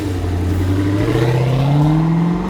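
A loud four-door car's engine revs hard and climbs steadily in pitch, close and brash, with a throaty rising drone and no talk over it.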